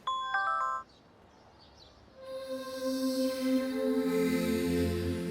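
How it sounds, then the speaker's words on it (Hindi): A mobile phone ringtone announces an incoming call, a bright repeating melody heard loud and close for under a second, then giving way to a louder sustained musical tone. "प्रिंसिपल मैम का फोन। अरे स्पीकर पे डालो, स्पीकर पे, हम भी तो सुने।"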